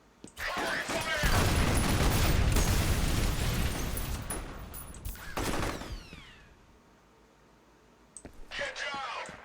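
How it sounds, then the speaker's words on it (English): Sustained bursts of rapid video game gunfire from a battle game, loud and dense for several seconds, then a second volley before quieter pops, with voices shouting over the shooting. "Covering fire!"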